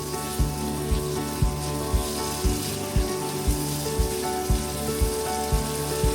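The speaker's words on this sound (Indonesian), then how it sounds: "Di sini saya tumis bumbu-bumbu gulainya, ditambahkan dengan daun jeruk, daun salam, dan 1 batang serai." Gulai spice paste sautéing in a pan with lime leaves, bay leaves and a stalk of lemongrass, giving a continuous close sizzle and hiss with a regular soft knock of stirring about twice a second.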